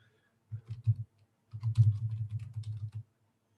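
Fingers tap out a password on a computer keyboard in two quick bursts of clicking keystrokes, close and clear, separated by a short pause.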